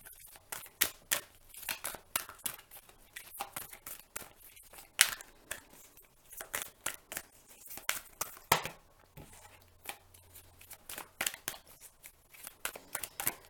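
Tarot cards shuffled by hand, a steady run of quick papery riffles and snaps that stay close and fairly quiet, with no talking over them.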